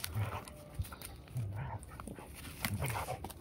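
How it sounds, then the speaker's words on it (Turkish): A stray dog in a village yard gives soft low vocalisations and panting in several short bursts, close by, with faint background noise. "Bu sahipsiz bir köpek."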